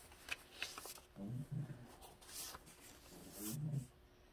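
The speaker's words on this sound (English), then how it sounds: "It sounds like somebody groaning. It's the dog." A dog scratching its ear lets out two low, drawn-out groans, faint and close, with soft rustling and shuffling between them.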